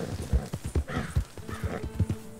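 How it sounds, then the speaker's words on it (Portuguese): Horse hooves clip-clop in a steady trotting rhythm in the video game Red Dead Online, fairly close and clear, with a faint whinny and some background game sounds and no talk. "Meu cavalo quis ir pro outro lado."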